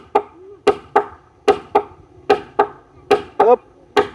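A hammer strikes wood while a small hut is being built outdoors, with about a dozen sharp, close knocks in an uneven rhythm and brief pauses between blows.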